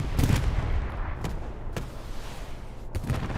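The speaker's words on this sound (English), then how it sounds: "Strafing run on its way." Gunfire from a strafing run in the Hell Let Loose war game: dense rumbling bursts and a few sharp distant cracks spread over the few seconds, loud and continuous without pause.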